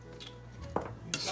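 Spoon stirring salt and pepper into a one-pot family meal, with a few short scraping clinks against the pot and a brief rattle near the end, close and fairly quiet.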